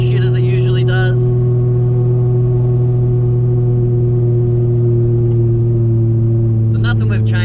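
A Nissan Cefiro A31 drives on a very cold day, its engine a loud, steady droning hum with strong even tones, and a voice talks briefly at the start and again at the end.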